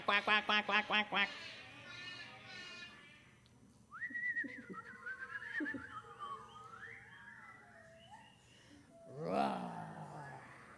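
Several voices imitate a duck with a rapid string of loud nasal quacks in a row, followed by sliding whistled tones and a final breathy burst, in an indoor Sunday service setting.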